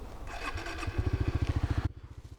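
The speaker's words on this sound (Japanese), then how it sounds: "エンジンかけてみましょう" A Suzuki GSX-S125 motorcycle engine cranks and catches, settling into a loud, rapid, pulsing idle before the revving cuts off abruptly.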